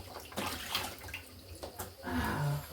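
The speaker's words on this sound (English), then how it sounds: "So I'm washing the onions." Onions being washed in water while cooking a beef stew, with soft sloshing and splashing plus trickling water, moderately faint and close, continuing throughout with small bursts of movement.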